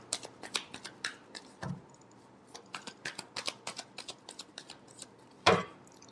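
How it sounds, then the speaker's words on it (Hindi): Tarot cards being shuffled for a love reading: a quick run of crisp riffling card slaps and flicks, close and fairly quiet, with a heavier thump near the end and no talking. "Last shuffle."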